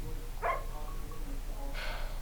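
A dog in the video game Uncharted 4 gives two short, sharp barks about a second apart over a low, steady game ambience.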